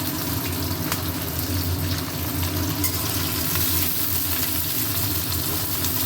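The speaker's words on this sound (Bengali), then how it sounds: "তেল গরম হয়ে গেছে, এবারে দিচ্ছি পেঁয়াজ।" Onion dropped into hot oil fries with a continuous, even sizzle and hiss, close and moderately loud, holding steady throughout without speech.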